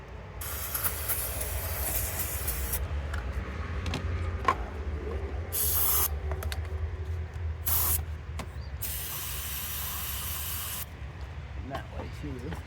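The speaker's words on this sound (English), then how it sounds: "Spray a lot more." Throttle body cleaner sprayed onto the throttle body of a 2008 Infiniti G35 in several sharp hissing bursts, the longest lasting about two seconds, with someone talking quietly between them.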